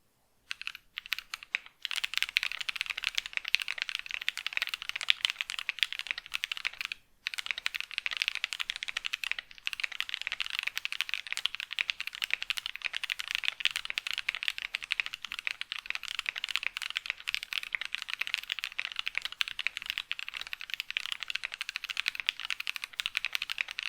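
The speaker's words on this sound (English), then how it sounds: "How about the lubed experience of these switches?" Steady, continuous typing on a keyboard fitted with freshly lubed Minty Mint linear switches, a dense run of close, even keystrokes alone with no talk, after a short pause near the start.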